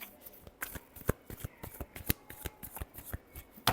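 Tarot cards shuffled by hand during a love reading: a close, crisp run of rapid papery riffles and taps with several sharper snaps, no voices.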